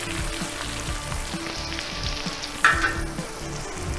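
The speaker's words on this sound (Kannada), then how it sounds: "ಇದಕ್ಕೆ 1 ಕಪ್ ಚಿರೋಟಿ ರವೆ ಇಲ್ಲಿಗೆ ಹಾಕೋತಾ ಇದ್ದೀನಿ ನಾನು." Semolina for chiroti tipped into hot ghee sets off a sudden loud sizzle, and steady frying and scraping stir sounds follow close by.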